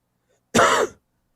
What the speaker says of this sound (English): That cough still came through?